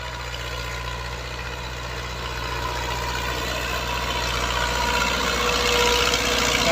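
A New Holland 640 tractor pulling a seven-tine chisel plough runs with a steady, droning engine hum that grows gradually louder and rougher, no talk over it.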